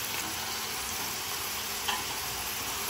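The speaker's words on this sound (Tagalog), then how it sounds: "Siyempre haluin natin." Goat kaldereta stew being stirred in a pot, a steady close sizzle and soft scraping churn running throughout, with one brief clink near the end.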